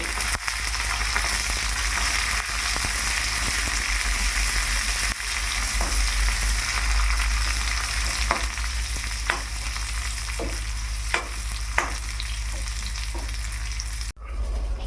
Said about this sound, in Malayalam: കടുക്, ഉള്ളി, കറിവേപ്പില, പച്ചമുളകും ഇട്ട് മൂപ്പിച്ചെടുക്കാം.